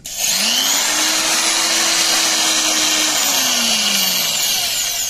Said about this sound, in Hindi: हमने अच्छी तरीके से लकड़ी में छेद कर दिया है